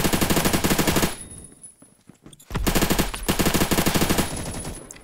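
Suppressed X95 SMG fire in the game Phantom Forces: rapid muffled automatic bursts, one long burst, a pause of about a second, then another sustained burst, close and steady.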